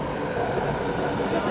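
Steady, continuous rumble of a Chengdu metro train in motion, heard from inside a carriage early in the morning, with no distinct breaks or clatter.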